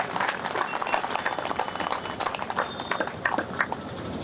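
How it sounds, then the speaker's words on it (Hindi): Crowd clapping at an outdoor political rally during a padyatra march in Ghaziabad, steady scattered applause continuing throughout with crowd noise in the background. "जोरदार तालियां इनके लिए बजाइए"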